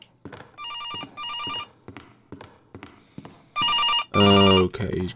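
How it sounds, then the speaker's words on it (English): Old-style telephone bell ringing in bursts inside a horror video game, loud and close, with thumping footsteps and other game sounds between rings. "Oh, phone's going."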